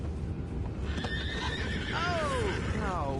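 Horses in the video game Red Dead Redemption 2 whinny in a rising-and-falling call, then a second neigh follows, over a steady low rumble of background noise and faint hoofbeats.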